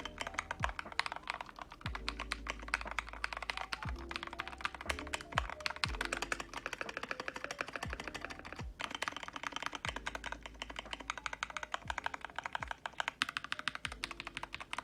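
Fast, continuous typing on a KiiBoom mechanical keyboard with lubed KiiBoom switches: dense, even clacks up close, with heavier spacebar thumps recurring every second or two, and no voices.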